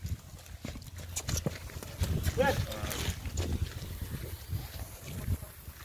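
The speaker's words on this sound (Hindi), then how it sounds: "ये सब भैंसा जा रही है" Jafrabadi buffaloes walk past outdoors, their hooves clopping and shuffling in an irregular stream over steady wind noise, with voices murmuring in the background.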